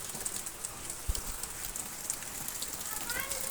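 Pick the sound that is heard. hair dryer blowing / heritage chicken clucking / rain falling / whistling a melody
rain falling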